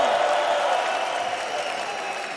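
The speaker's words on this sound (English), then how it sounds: "a round of applause once again for Caps" Arena audience at the 2019 LEC Summer esports finals between G2 Esports and Fnatic claps in a dense, steady wash of applause that stays loud throughout and fades slightly at the end.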